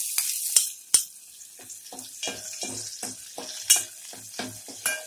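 Chopped onion dropped into hot oil in a heated pot as the tempering for a cowpea (chavali) usal, sizzling steadily with repeated stirring scrapes and sharp clinks, close and moderately loud, with no talking.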